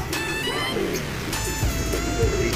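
A racing pigeon just arrived at its loft coos in low, throaty repeated calls close by, with a brighter bird chirp above and steady outdoor background noise.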